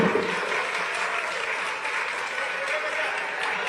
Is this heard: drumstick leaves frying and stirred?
no